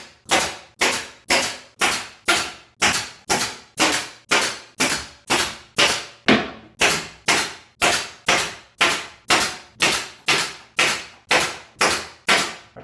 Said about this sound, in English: I have to shoot 1/2-inch staples in here.